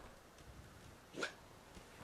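Dogmeat, the dog companion in the video game Fallout 4, gives a single faint bark in the game's soundtrack, set against a low, steady background ambience.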